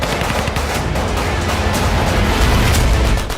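Dense, rapid gunfire rattles continuously during an armed attack inside JJ Hospital, a sustained burst of shots with booming low end, loud and close, no voices.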